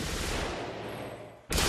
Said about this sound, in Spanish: No hay ametralladora que dispare como la MG-42.